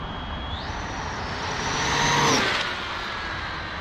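An Arrma Limitless RC car makes a high-speed run, its electric motor a loud steady whine that climbs in pitch, swells to a peak as it passes close by, then fades.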